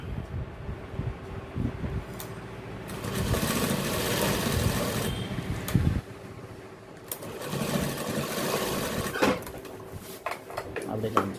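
An industrial sewing machine in a tailoring shop stitches a King brand label onto men's trousers, running in long steady bursts with brief pauses and clatter of fabric handling, while someone talks over it.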